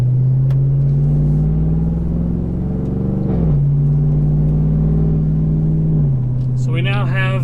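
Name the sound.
EFI Live tuned truck engine driving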